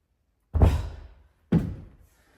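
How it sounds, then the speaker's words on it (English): Two heavy, resonant thunks roughly a second apart ring out from a Volvo car door as it is worked loose and removed during a home repair after a crash, each clunk decaying quickly, close and fairly loud, with no talking. "And then like this, you can take the door off."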